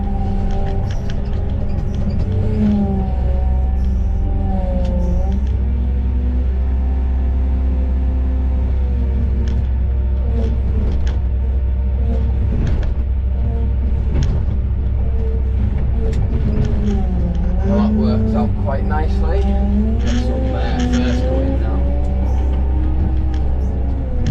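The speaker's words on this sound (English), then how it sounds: "Fair bit of whine to this Manitou, like when he's changing gear." A Manitou telehandler engine runs loud and close, its droning whine sliding up and down in pitch as it changes gear over a constant low rumble.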